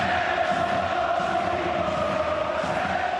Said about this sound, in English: This crowd is loving it.